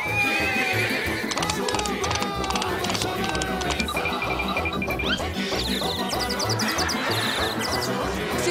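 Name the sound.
horse neighing and hooves clip-clopping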